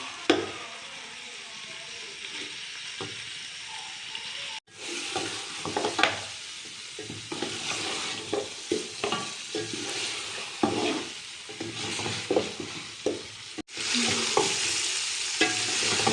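Beef trotters fry and get stirred with masala in a pan, a steady close sizzle broken by scraping stirs and clacks of the spoon, with two brief pauses.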